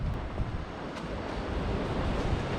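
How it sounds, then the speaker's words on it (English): Waves wash continuously onto Sesimbra's main beach in Portugal, a steady broadband surf roar with some wind buffeting on the microphone and no voices. "This is the main beach, Sesimbra beach"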